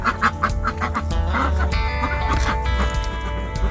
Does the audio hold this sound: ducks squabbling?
yes